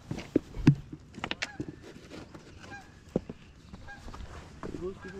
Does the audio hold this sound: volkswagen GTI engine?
no